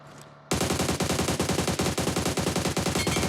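Automatic weapon fire in PUBG Mobile: after a brief quiet start, a loud, fast, unbroken burst of gunshots rattles on in even rhythm to the end of the clip.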